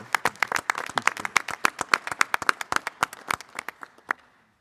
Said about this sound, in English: let's clap for them as they come forward.